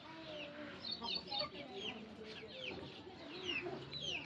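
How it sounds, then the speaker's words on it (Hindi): A rooster clucking and calling faintly in a quiet setting, several short rising clucks scattered through the clip with soft background noise and murmured voices. "मुर्गा भी बीच में आ रहा है खाने के लिए"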